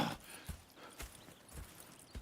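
Faint horse hooves in the video game Red Dead Redemption 2 clip-clop at a walking pace, a few soft rhythmic thuds over quiet ambient noise.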